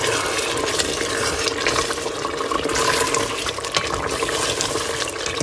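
Roughly half a cup of cooking oil poured into a cooking pot while making mutton with ladyfingers, a steady, continuous liquid splashing and hissing wash that runs unbroken at an even, fairly close level.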